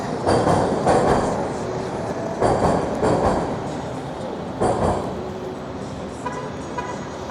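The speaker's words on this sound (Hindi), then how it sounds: "ये सबवे स्टेशन है, ट्रेन अंडरग्राउंड आवाज़ आ रही है।" An underground subway train in Toronto rumbles loudly and continuously at a station, with rolling rail noise and faint clacking pulses that swell and fade, heard alone with no voices.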